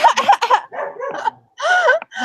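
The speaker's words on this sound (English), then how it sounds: "No, it's my neighbor's dog." A neighbour's dog barks and yips in several quick bursts, loud and close, with short gaps between the calls.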